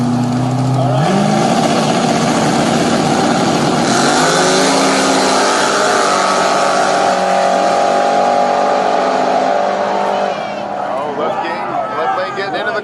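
Nitrous-fed street cars launch side by side in a no-prep drag race at War in the Woods 13, engines roaring loud and sustained as they pull through the pass, with a commentator talking over the noise.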